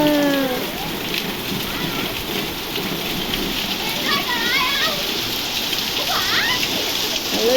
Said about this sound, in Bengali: বৃষ্টি এসছে বৃষ্টি এসছে দেখো ওই দেখো এরা বৃষ্টিতে ভিজছে